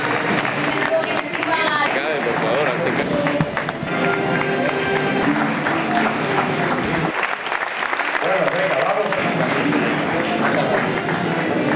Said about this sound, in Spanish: Un aplauso para el niño, un aplauso.